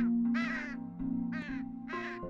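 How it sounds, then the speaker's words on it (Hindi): Crows caw near a markhor carcass in the Chitral mountains, three loud harsh calls in a row over a steady low hum, close by. "कव्वे इसको पहले ही ठिकाने लगा देते हैं"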